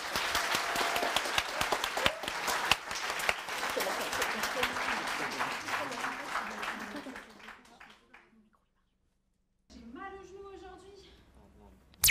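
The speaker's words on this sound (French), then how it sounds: "Un tonnerre d'applaudissements pour les accueillir." A thunderous round of audience applause for arriving guests on a science show fills most of the stretch, then fades to silence before a voice and music begin.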